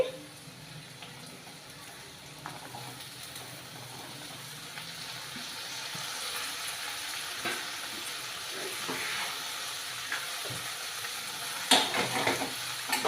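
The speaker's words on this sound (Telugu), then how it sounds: "ఇప్పుడు మనం తరిగి పెట్టి ఉంచుకున్న ఈ బర్బాటి ముక్కలు అనమాట ఇందులో వేసేసుకోవాలి" Chopped barbati beans (yardlong beans) stir-fried in a pan for a Telugu curry, giving a steady soft sizzle with intermittent scraping and stirring clatter, and a brief louder clink near the end.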